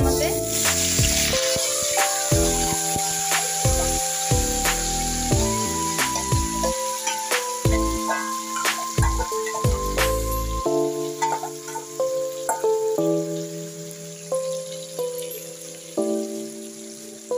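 Marinated chicken pieces frying in hot oil in a pan, a steady loud sizzle running throughout with scattered pops and spatters, and a person talking over it at times.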